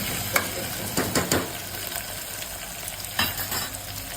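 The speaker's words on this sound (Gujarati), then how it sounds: "પછી એને થોડું સાંતળવા દઈશું." Crushed peanuts and curry leaves sauté in hot oil, a soft steady sizzle broken by several clacks of a stirring spoon against the pan, close and moderately quiet.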